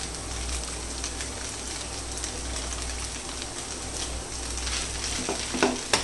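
Chow mein noodles stir-fried with sauces in a hot pan, a steady close sizzle and hiss with occasional scraping stirs, no voices.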